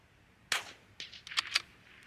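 Sharp .22LR rifle shots fired at an egg target 84 yards away from a prop rest, with one crisp crack followed by a quick burst of several lighter snaps, fairly quiet against a calm outdoor background.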